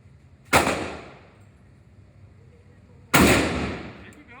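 Two loud gunshots ring out at an outdoor gun range, spaced about two and a half seconds apart, each a sharp crack that decays slowly.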